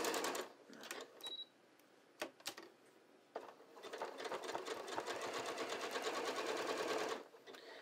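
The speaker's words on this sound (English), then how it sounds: "And I'm just stitching right along the edge." A sewing machine runs in short bursts and then a long steady run, stitching along the edge of pull-on pants at a short stitch length, close and clear with no talk.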